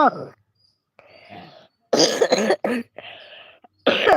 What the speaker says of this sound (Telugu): పక్కన దగ్గు జలుబుతో బాధపడుతుంటే